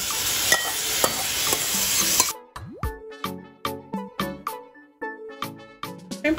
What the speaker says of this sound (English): Once the butter is all melted, I'm going to go ahead and add my shrimp.